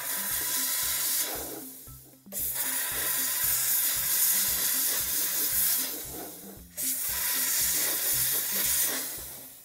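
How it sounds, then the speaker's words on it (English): A steamer blasts a loud, steady hiss of steam onto wax-coated acrylic at a sink, cutting out briefly twice before resuming, with a low rhythmic musical background underneath. "I'm going to steam this."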